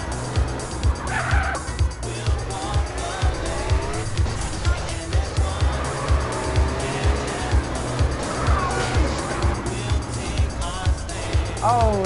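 A car in GTA San Andreas skids and gets bumped into another car, with loud engine roar and squealing tires over rhythmic racing noise while someone talks throughout.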